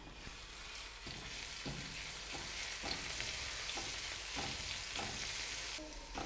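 Garlic paste frying in oil in a pan, a steady soft sizzle with stirring scrapes at intervals throughout.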